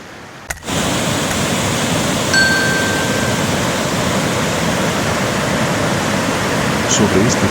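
The Cahabón river at Semuc Champey pours into a natural limestone tunnel, making a loud, constant rushing roar that starts abruptly after a brief quiet moment and holds evenly throughout.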